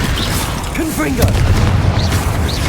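Blasts from the Confringo spell in the video game Hogwarts Legacy land as loud low booms and rumbles, mixed with short vocal outbursts and brief whooshing effects over a continuous heavy background.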